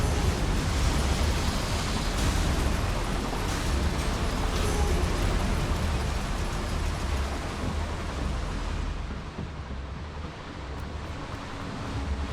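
A Confringo spell blast in Hogwarts Legacy gives a broad, roaring rumble that fills the whole span at steady loudness before easing slightly toward the end.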